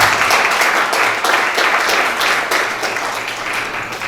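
Audience clapping in welcome of a CEO at a talk-show forum, dense steady applause from a large crowd filling the whole stretch, loud and close.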